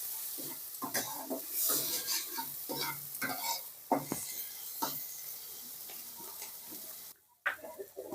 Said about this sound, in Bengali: আমাদের চিংড়ি মাছটা ভাজা হয়ে গেছে এবার মাছটাকে আমরা তুলে নেব